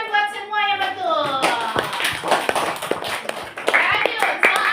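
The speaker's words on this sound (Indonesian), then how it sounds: "Tepuk tangan buat semua yang betul." Classroom hand clapping during a coaching session, a burst of claps mixed with voices talking over it, moderately loud and close.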